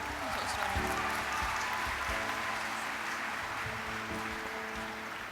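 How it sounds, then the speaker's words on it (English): A convention hall audience at the Ohio FFA state convention applauds its gold-rated chapter secretaries with a steady wash of clapping that holds for the whole stretch, with speech and voices threaded underneath. "Let's give another round of applause for our gold-rated secretaries."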